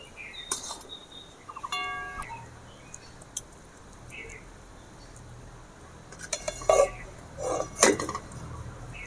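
A spoon scrapes cooked sabudana laddu mixture from a pan into a bowl, giving intermittent metallic clinks and scraping strokes, fairly quiet, with a few louder knocks near the end.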